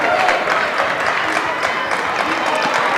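Crowd noise at a men's college basketball game between the Stockton Ospreys and Montclair, a steady broadband roar of cheering and clapping filling the arena for the whole stretch, with no clear pauses.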